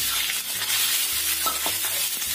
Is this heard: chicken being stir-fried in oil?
yes